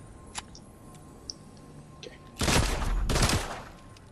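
A few faint clicks, then two loud bursts of rapid gunfire from dual pistols in a shooter game, close and harsh, separated by a brief gap.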